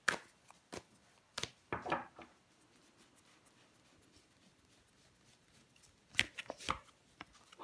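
Tarot cards are handled and flipped over on a table, giving sharp, scattered slaps and soft shuffling rustles in irregular bursts, quiet and close, with a lull in the middle.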